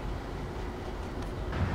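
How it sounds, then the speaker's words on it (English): A Norfolk Southern intermodal freight train starts moving again after stopping at the summit in Cresson, Pennsylvania. It makes a continuous low rumble and rolling rail noise from a moderate distance, swelling slightly toward the end. "He gave his toots and he's starting out to move again."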